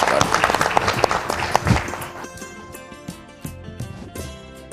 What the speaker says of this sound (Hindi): जोरदार तालियों के साथ गुप्ता जी।